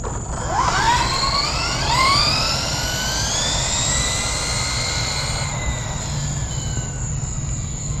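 A Traxxas Mudboss RC truck on a 2S battery makes an outdoor speed run, its motor whine rising steeply in pitch as it accelerates away, loud and continuous over steady wind noise.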